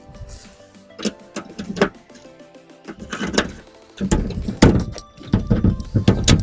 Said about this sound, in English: now we're going to inspect the compartment door